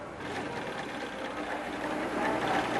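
A sewing machine runs steadily while stitching a garment with matched seams, a continuous close whirring hum with fine rapid mechanical ticking throughout.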